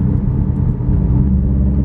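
A Subaru STI's loud, raspy exhaust with a Nameless muffler delete rumbles up close, a deep continuous drone without any talking.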